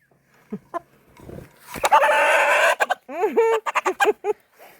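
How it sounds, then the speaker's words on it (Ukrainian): A hen, not a rooster, clucks and squawks loudly up close as it is caught and handled on a small farm raising broilers without compound feed, giving a run of harsh bursts and rising calls. "А це куриця? Куриця. До речі, це куриця, не петух."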